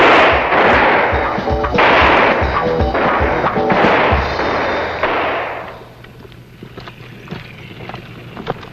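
Marine recruits fire rifles on a qualification range at MCRD San Diego in 1973, a rapid irregular string of loud cracks and thumps that thins out and fades to quieter scattered shots.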